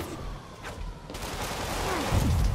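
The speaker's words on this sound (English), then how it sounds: "There's so much gunfire." Gunfire in the video game Marvel's Spider-Man, a soft distant rattle of repeated shots mixed with game effects and a rising whoosh near the end, fairly quiet overall.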